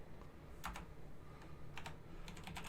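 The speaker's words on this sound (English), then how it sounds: "I'll type it out." Quiet typing on a computer keyboard, scattered clusters of soft key clicks with short pauses between bursts, close and alone.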